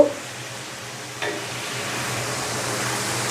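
Pointed gourd and fish roe frying in a pan: a steady, close sizzle with one brief scrape of stirring early on.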